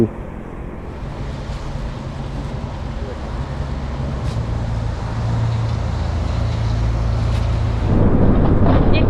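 Heavy rain and storm wind roar steadily during a ride on a 2023 Honda Wave125i motorcycle, a dense broadband wash that grows louder toward the end, with a faint engine drone underneath.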